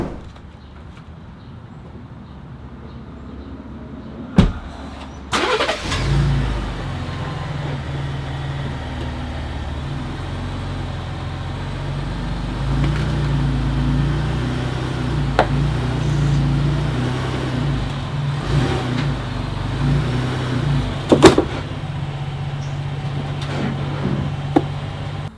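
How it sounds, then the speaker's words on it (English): Idling engine of a Gen 2 Ford Raptor pickup with a loose exhaust rattle, a steady low drone starting after a sharp knock, with a few light metallic clicks and taps over it, close and moderately loud. "It's like a rattle."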